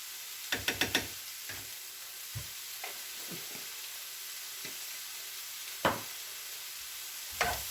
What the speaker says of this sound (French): Et vous mélangez bien tout.